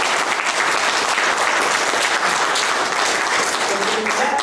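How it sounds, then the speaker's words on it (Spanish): Loud, dense applause from an audience at a community event, continuous clapping that fills the room at even strength from start to finish. "¿No merece un aplauso eso?"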